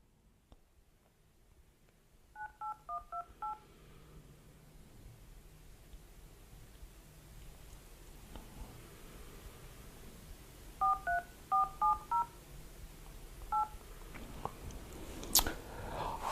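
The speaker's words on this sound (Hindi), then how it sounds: "अब हम फोन मिलाते हैं।" Telephone keypad dialing tones in two bursts, five quick beeps then a pause and another run of six beeps, with a final single tone, fairly clear over a low background hiss.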